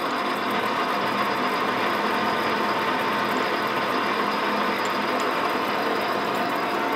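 A lathe tool takes a 2 mm cut along the length of a metal shaft in a workshop demonstration, giving a steady, dense mechanical whirring and grinding hum with no pauses and no speech.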